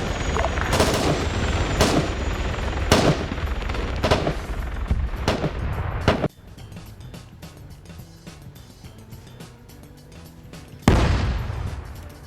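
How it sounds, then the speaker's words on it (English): Artillery in a video game booms in heavy, close blasts, several spaced shots in the first half, then a quieter lull with faint rumble before one more loud blast near the end. "that artillery firing back at base"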